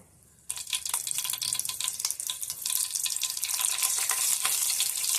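Mustard seeds and curry leaves hit hot oil for a Konkani raw mango kadhi, bursting into a loud, steady sizzle with rapid crackles and pops that keep building, close and alone.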